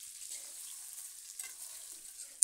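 Radish and potato frying together in a pan, a faint steady sizzle with a couple of light scraping stir sounds and a sharp clink near the end.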